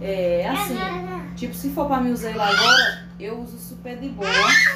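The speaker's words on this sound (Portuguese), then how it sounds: "Desculpa o barulho de fundo," Young children play and babble in the background of a home, their squeals and chatter rising in bursts while someone talks over them in the foreground.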